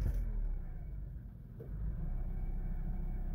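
A 2011 Jeep Patriot with a stalling fault has its engine restarted, a low idling rumble dipping briefly before catching and settling back into a steady, close drone with no talk.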